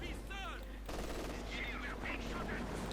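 Gunfire from Company of Heroes 2 as engineers and conscripts shoot down a unit, with bursts of rapid shots and distant battle noise under an ongoing game commentary voice.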